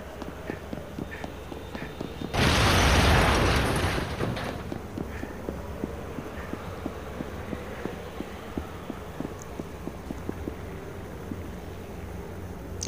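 An explosion in the open-world video game Gangstar Vegas bursts in loudly after a couple of seconds and fades over about two seconds. It is followed by a steady run of light rhythmic ticking in the game.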